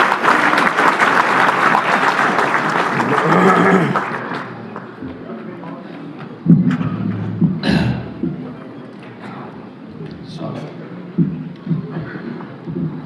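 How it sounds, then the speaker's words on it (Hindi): Loud audience applause for a poet at a Republic Day kavi sammelan, a dense burst of clapping for the first few seconds that thins out, followed by someone speaking with scattered claps and crowd noise behind him. "जरा जोरदार तालियों के साथ"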